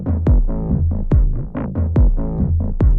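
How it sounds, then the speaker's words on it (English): A techno drum groove slowed by the BLEASS Slow Machine default preset into a chilled, trip-hop feel, with deep booming kicks and pitch-dropping hits falling in a relaxed, loping rhythm, alone and upfront. "We've taken kind of a techno groove and turned it down into a chilled, almost trip-hoppy sounding groove."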